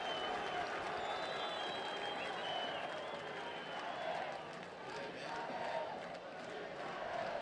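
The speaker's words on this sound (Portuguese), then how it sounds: "O torcedor aplaude o argentino." A football stadium crowd at a Grêmio versus Flamengo match applauds a player, a broad, steady wash of clapping and crowd noise that swells and dips slightly throughout.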